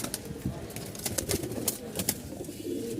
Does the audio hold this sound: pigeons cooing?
yes